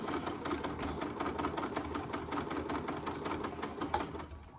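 A sewing machine stitches a fabric bowl warmer in a fast, even run of mechanical clicks that stays close and steady, then stops near the end.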